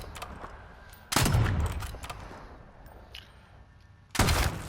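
A Strider 300 gun in a video game fires in two loud bursts of rapid automatic shots, each an abrupt, sustained rattle of close gunfire separated by a few seconds of quieter background.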